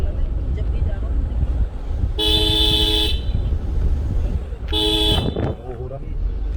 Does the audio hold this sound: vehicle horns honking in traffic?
yes